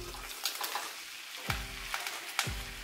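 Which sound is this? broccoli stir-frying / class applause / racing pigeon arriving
broccoli stir-frying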